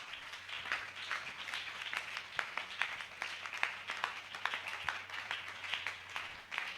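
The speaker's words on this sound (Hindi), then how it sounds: "ताली बजाकर परमेश्वर के वचन का स्वागत कीजिए।" A church congregation claps in welcome, a faint, far-off patter of many hands with a rhythmic, steady beat over a low hum.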